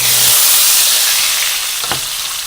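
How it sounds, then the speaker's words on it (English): Loud, steady sizzle and hiss of a pot roast searing in a hot pan, close up and continuous, easing slightly toward the end. "Now when you're searing in your flavors to your roast"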